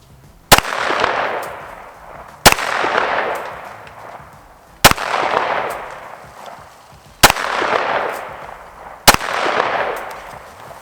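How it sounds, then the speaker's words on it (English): Five sharp rifle shots from a 6.5 Creedmoor build, fired at a target outdoors, about two seconds apart. Each loud crack is followed by a rolling echo that fades before the next shot. "let's go ahead and shoot this target a couple times. We're just gonna dump whatever's in here onto the target."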